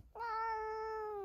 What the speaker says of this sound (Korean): 왜 야옹했어?